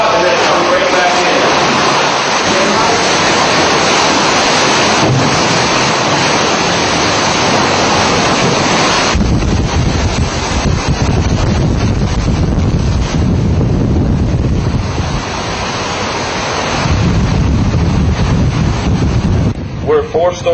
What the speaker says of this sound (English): See the water get sucked out and then come right back in.